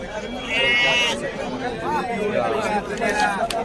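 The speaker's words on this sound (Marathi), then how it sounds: "मेंढ्या आहेत." Sheep bleating at the crowded Kashti livestock market, with several wavering bleats close by amid a steady hubbub of people talking.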